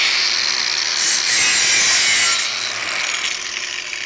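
A battery-operated cordless 21V 5-inch angle grinder cuts or grinds steadily for a few seconds, a loud, bright, whining rasp that swells in the middle and eases slightly toward the end, with no voices.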